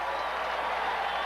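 Stadium crowd at a 1985 Rams football game cheering, a continuous broad wash of distant roaring and clapping with no break.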